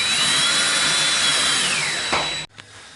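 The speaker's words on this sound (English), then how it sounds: "everything is pre-drilled, so it makes it very easy for the drill to do its work" Power drill driving screws into pre-drilled holes while assembling a ScrapBox studio tower, a loud whirring motor whine that slows and falls in pitch as the screw seats, then cuts off abruptly, followed by a short faint click.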